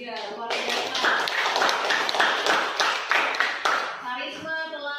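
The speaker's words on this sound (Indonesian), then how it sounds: "mari kita beri aplaus buat kelompok 3" Classroom applause for a student group after their chemistry presentation at a senior high school, a dense burst of clapping from many hands lasting several seconds before fading as a voice resumes.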